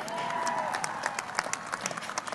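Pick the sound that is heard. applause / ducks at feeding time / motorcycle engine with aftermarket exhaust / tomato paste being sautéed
applause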